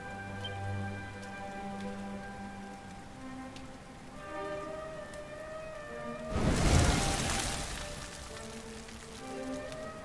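Rain in the video game Dragon Quest XI falls as a steady hiss of drops on surfaces, with a louder gust-like swell midway, under sustained musical tones and no talking.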